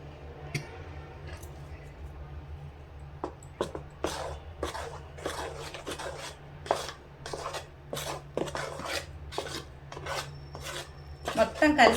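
Flour is added bit by bit to coconut and jaggery syrup for Andhra boorelu and stirred in, giving close, irregular scraping and rubbing strokes of a spoon against the pot over a low steady hum, growing busier toward the end.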